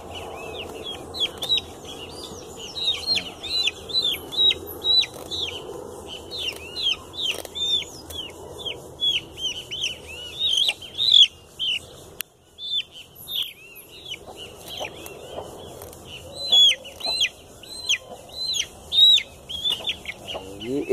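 Chickens in a henhouse clucking and cheeping constantly, with many overlapping high peeps from young chicks in rapid bursts and a softer lower clucking underneath, close and lively throughout, briefly pausing once midway.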